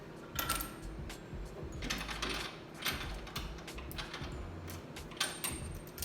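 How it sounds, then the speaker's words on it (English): A loose, floppy Craftsman ratchet wrench, used with a 19 socket on an XJ steering box brace, clicks in uneven bursts of metallic ratcheting up close, with faint shop clatter around it. "And floppy ratchet. Must be a craftsman."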